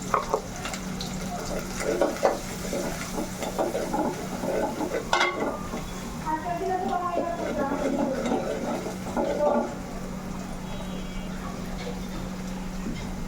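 Spice masala of turmeric, coriander powder, chili powder and salt being stir-fried in a pan: continuous frying sizzle with repeated scraping and clanking of a spoon against the metal, close and moderately loud.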